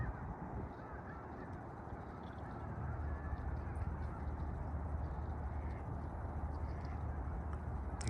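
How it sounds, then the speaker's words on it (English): Ducks honk and quack faintly in the distance over a quiet, steady outdoor hum on a frigid, snowy winter morning in Toronto. "They could hear the ducks."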